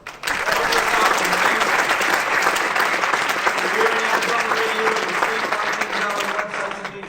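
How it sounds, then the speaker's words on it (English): Audience at a convention event gives sustained, loud clapping that starts abruptly and carries on evenly for several seconds, with faint voices underneath. "Can I get a round of applause very quickly for another big supporter of ours"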